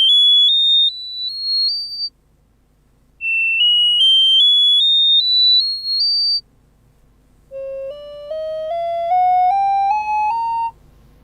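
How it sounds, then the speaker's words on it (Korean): Three rising stepped tone sweeps, the first two high and bright, the third lower with a faint hum beneath, played loudly as an iPhone bottom speaker test through the small phone speaker. "이제 하단 스피커에서 소리가 제대로 재생되었는지 답변할 수 있어요"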